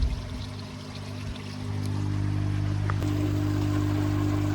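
Water from a pump turned down to 2,000 litres an hour runs steadily through a newly fitted inline prefilter, a continuous close-up pouring rush with a low hum, which swells slightly louder partway through and holds.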